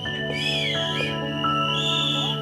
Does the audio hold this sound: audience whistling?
yes